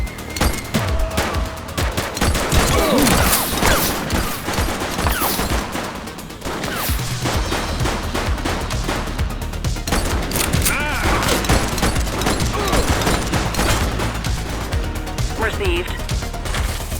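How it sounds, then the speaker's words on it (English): Rapid bursts of gunfire from a police action game set in a city precinct, loud and dense with overlapping shots and crashes throughout, a voice calling out over the shooting. "He's shooting!"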